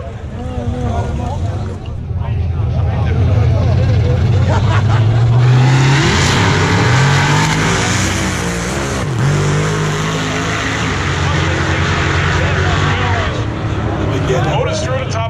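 A 1967 Chevrolet Chevelle and a Ford Mustang launch in a no-prep drag race at South Mountain, engines roaring loud and sustained with rising revs, while an announcer talks over the noise.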